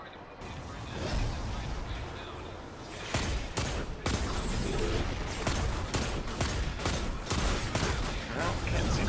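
Enemy gunfire in the shooter video game Destiny 2, with rapid bursts and repeated sharp shots cracking over a dense, busy battle background, sustained and loud throughout.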